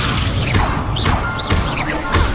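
A Levioso spell cast in Hogwarts Legacy, a dense, loud magical rush full of whooshing sweeps and crashing impacts, sustained throughout with rising and falling tonal swirls.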